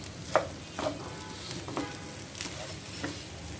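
Mung, masoor and chana dal fry with turmeric and chili powder in a pan, giving a soft, steady sizzle punctuated by a few spatula scrapes and stirring taps, close by.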